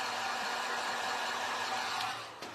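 Hair dryer blowing steadily on wet paint on a stencilled Santa tray, a close, constant airy whoosh that tapers off at the very end, with no talking.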